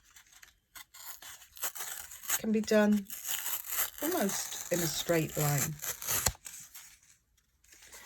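Paper tears along the grain in a fairly straight line, a brief rasping rip heard under a person's explanatory talk, mixed with some rustling and handling noises nearby.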